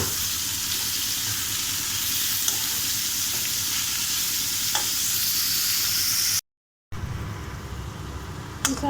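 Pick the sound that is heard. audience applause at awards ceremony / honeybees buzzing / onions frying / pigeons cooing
onions frying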